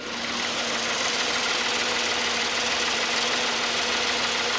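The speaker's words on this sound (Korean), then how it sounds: "엔진 룸 열어놨고요 엔진 소리 한번 들어볼게요" A 2014 Hyundai Genesis with its 3.3-litre V6 idling under an open hood, giving a smooth, steady, close hum with a faint rhythmic ticking and no talk.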